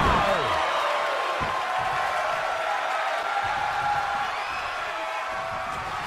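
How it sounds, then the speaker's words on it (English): A capacity arena crowd in the WWE 2K20 wrestling video game roars and cheers in a steady, loud wash of noise. The sound is dense and continuous, with faint whoops rising above it. "you hear this capacity crowd following you on that journey."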